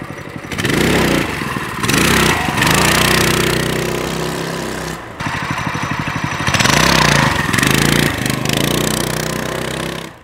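A Coleman CT200 mini bike with a torque converter rides hard off the line. Its small single-cylinder engine roars loudly and close, rising in bursts with brief drops between pulls.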